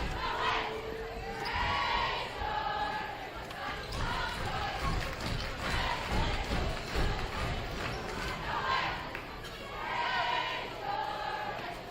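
The crowd at a varsity men's high school basketball game between South Summit and Grantsville chants and cheers in rhythmic waves through the gym, with a steady roar of voices and occasional ball bounces underneath.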